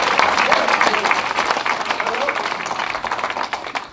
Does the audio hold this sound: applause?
yes